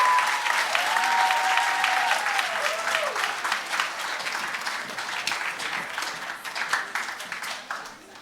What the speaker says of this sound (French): J'aimerais qu'on donne une belle main d'applaudissement pour Samira